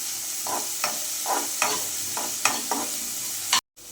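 Two dried red chillies sizzle in a hot pan for brain fry while a spoon scrapes through them in quick, regular strokes roughly every third of a second. The sound is close and loud and ends abruptly.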